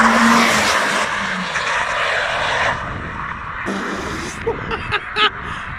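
A Peugeot Avantime's engine and exhaust roaring loudly up close, a sustained throaty blare that eases and then gives a few short blips near the end.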